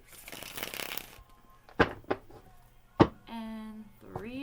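A quick tarot card riffle followed by a few sharp taps of the deck being squared, close by, with a brief voice at the end.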